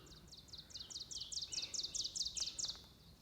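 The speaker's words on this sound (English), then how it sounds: "Love listening to all the birds." Outdoors in spring wilderness, small birds sing in a steady series of bright, high chirps repeating rhythmically, with faint background hiss and a few other distant calls.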